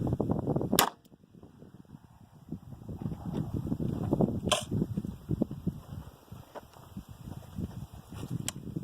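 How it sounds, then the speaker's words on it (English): Gunshots at an outdoor shooting range: one sharp, loud crack near the start, then several more reports scattered through the clip over a steady background rumble. "Dang, that shot, Turkey Man."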